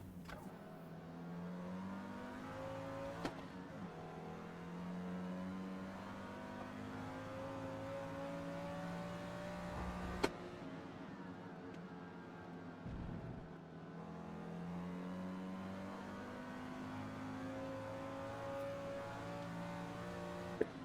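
A race car engine in Forza Motorsport revs and accelerates through repeated rising gear pulls, a steady loud drone that climbs in pitch and drops at each shift, alone without talk.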